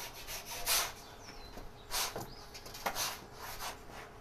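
Pizza peel sliding under a pizza on a floured Italian biscotto stone, giving soft, faint scraping and rubbing strokes spread across a few seconds, close by and quiet.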